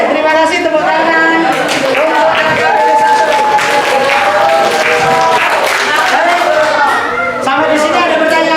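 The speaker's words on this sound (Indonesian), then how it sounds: "Oke, terima kasih, tepuk tangan." A class of students claps together during a teaching-practice lesson on eating halal food. The clapping is steady, dense and close, running throughout, with children's voices and talk mixed in.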